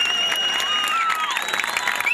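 Live show crowd in Coronel Oviedo clapping and cheering together, a continuous wash of applause with whistles and tonal shouts riding over it, loud and even from start to finish.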